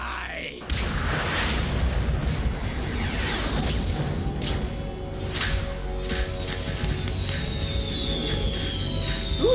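Explosions in the video game Metal Gear Solid 2: Sons of Liberty, a sudden heavy boom followed by sustained rumbling blasts and crackling debris, loud and dense, with whooshing streaks and a final burst near the end.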